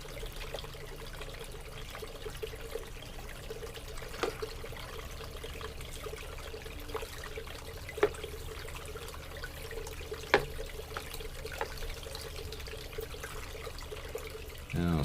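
Water trickling and pouring softly through a gold concentrate sluice over its riffles, a faint continuous flow with a few small splashes and clicks and no talk.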